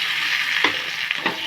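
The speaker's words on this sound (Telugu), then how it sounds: "టొమాటో తొక్కలు వచ్చేంత వరకు బాగా ఫ్రై చేయాలండి" Tomatoes fry in a pan for a village-style mushroom curry, giving a bright, continuous hissing sizzle with a few quick stirring scrapes near the end.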